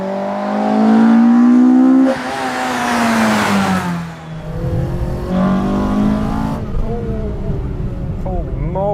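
A 4A-GE car engine revs high on a downhill run and climbs in pitch, drops briefly, then surges again loudly, with a voice talking over part of it.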